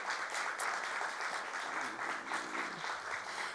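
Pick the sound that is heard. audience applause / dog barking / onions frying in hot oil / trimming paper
audience applause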